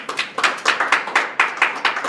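A few audience members at a science-fiction poetry reading clap in a brief, close, rhythmic burst of distinct hand claps.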